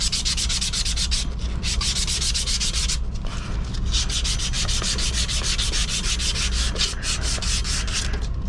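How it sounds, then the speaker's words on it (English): A pipe being sanded before cutting, heard as a loud, continuous abrasive rasp in steady back-and-forth strokes, close up, with brief dips where the stroke changes direction and no talking. "I'm gonna have it sanded down first"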